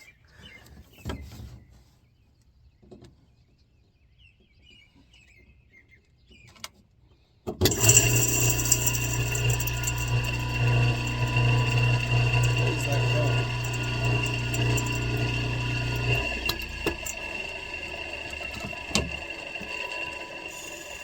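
An old hay elevator switches on about a third of the way through after a quiet stretch, then runs with a loud, steady mechanical clatter and low hum that continues to the end.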